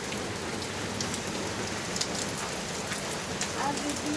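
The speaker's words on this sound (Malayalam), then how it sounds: "ഇതപ്പോ നല്ല മഴയാണ് ഗൈസ്" Steady, dense downpour of heavy Kerala rain, a continuous broadband hiss of drops hitting surfaces, loud and close without a break.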